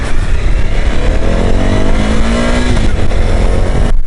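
A 2014 Suzuki V-Strom 1000 ABS adventure sport tourer motorcycle engine hums steadily while riding, its pitch rising and falling slightly under constant loud wind roar, with no talk.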